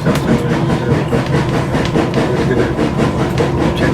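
A steam gala train running on the Keighley & Worth Valley Railway near Oakworth, with loud, close rolling rumble and a continuous clattering of wheels over rail joints.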